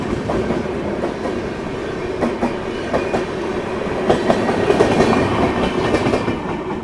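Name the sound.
Duronto Express train passing on rails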